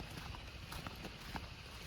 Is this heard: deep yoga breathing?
no